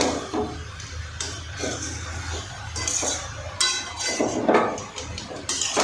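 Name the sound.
stirring cabbage in a pan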